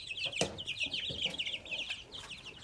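Chickens cluck and chatter close by in a busy, overlapping flock, with short sharp calls popping out over a steady birdy murmur.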